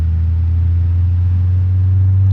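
A turbocharged Lada 2101 with a swapped engine in the BeamNG Drive driving game hums at a loud, steady low drone throughout, with no clear rise in pitch.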